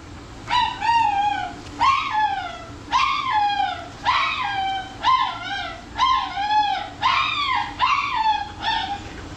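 A severely matted, underweight husky howls and whimpers in repeated rising-falling cries about once a second, loud and close, with no talk over it.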